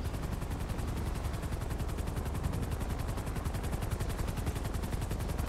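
Rapid continuous gunfire in GTA 5 during a police roleplay, a dense rattling burst of shots sustained evenly for several seconds at moderate level, with no talking.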